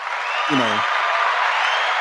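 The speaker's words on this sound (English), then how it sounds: "round of applause for Son." Applause on a podcast, an even, slightly thin wash of clapping that runs continuously, with a brief voice cutting in near the start.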